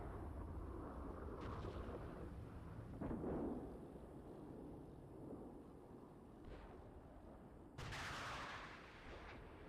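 Tank cannon fire and explosions in the Steel Beasts Pro PE tank simulator training scenario, several heavy booms spaced across a rumbling battlefield, with a sharp loud blast near the end.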